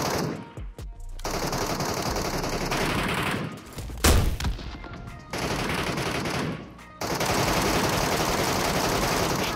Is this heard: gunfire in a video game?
yes